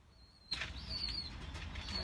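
A pigeon flaps its wings in a sudden burst, loud and close, starting after a quiet moment and continuing as a steady fluttering rustle with faint chirps over it.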